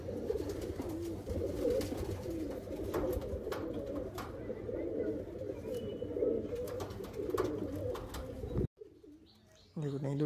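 Andhra breed pigeons coo steadily in a loft, with soft repeated throaty calls and occasional chirps layered over one another, someone talking over them until the sound cuts abruptly near the end.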